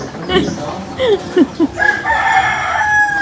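A rooster crows loudly and close by, a rising then drawn-out call, with bits of other bird or chicken sounds around it.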